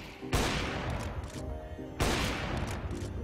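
Two loud bursts of Counter-Strike: Global Offensive gunfire, each a sharp broadband crack trailing into a rattling, echoing tail, about a second and a half apart, with faint lower shots between.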